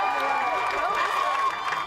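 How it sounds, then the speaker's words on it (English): A large crowd cheers loudly and steadily outside a high school, celebrating the school's custodian. The roar is dense and continuous from start to finish, with voices mixed into the noise. "this huge cheering crowd was there to celebrate him"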